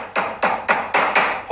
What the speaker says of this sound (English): We have to drive all these nails in.